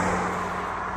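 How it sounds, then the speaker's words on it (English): A car passes close by on a road in England, a steady broadband engine and tyre rush heard alone and fading slightly over a second. "Almost got hit by a car."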